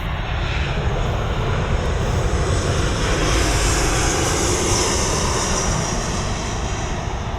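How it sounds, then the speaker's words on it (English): Airplane flying overhead above an outdoor tomato garden, a loud, steady broadband engine roar that fills the whole stretch without letting up, with no talking. "every time I go to film a video, fucking airplanes want to fly by"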